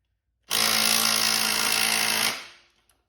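A compact power tool, likely an impact driver, hammers at a CRF300L Rally shock bolt in one loud, steady burst of under two seconds, then winds down and stops.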